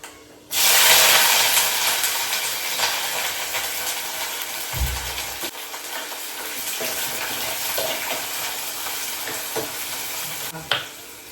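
Steady, loud sizzling of chopped shallots, curry leaves and fenugreek seeds frying in hot oil, with occasional stirring scrapes and crackles throughout.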